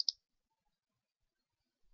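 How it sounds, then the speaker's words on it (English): A single sharp computer mouse click right at the start, followed by near silence. "In the box that's highlighted, right click."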